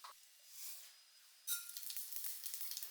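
Coconut oil in a frying pan for tempering suddenly bursts into a sizzle halfway through, after a quiet start, then keeps up a soft crackling hiss with small popping spurts.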